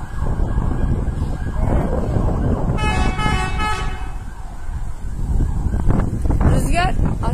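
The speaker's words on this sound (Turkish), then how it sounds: "Rüzgar yön değiştirdi. Şimdi bize doğru esiyor." Wind gusting loudly at a wildfire scene near İskenderun, a constant low roar across the whole stretch. A passing vehicle horn or siren cuts in briefly, and people talk nearby.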